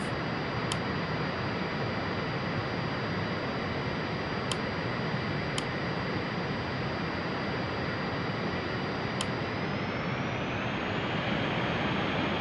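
Steady, loud broadband roar of Boeing 707 jet engines at takeoff power in a flight simulator game, continuous with no talk, a few faint ticks, and the tone shifting slightly near the end.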